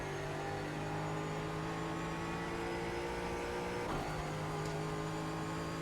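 A Ford Mustang GT4 race car driven around the Indianapolis road course in iRacing, its engine droning steadily with a sustained tonal whine, a brief shift or blip near the end, no talk.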